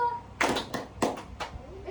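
A group clapping hands in a counting game, several sharp clustered claps at irregular intervals over low background noise.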